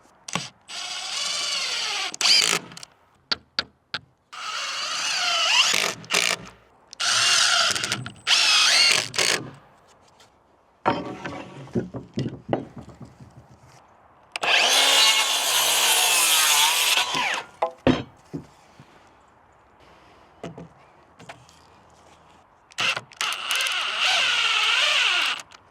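Screws being driven into untreated wood while building a chicken coop: repeated loud bursts of power-driver whine and grinding lasting a few seconds each, separated by short pauses, close up with no talking.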